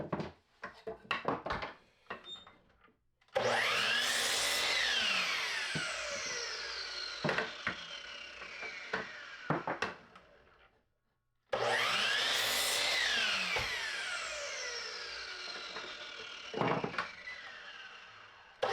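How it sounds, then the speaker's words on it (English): A miter saw cuts wooden 2x4 frame pieces to length in two long, loud whining passes through the wood. Each pass starts with the motor spinning up and trails off as it winds down, with wood knocks and handling clatter in between. "Back to the miter saw, I went to cut those frame pieces to length."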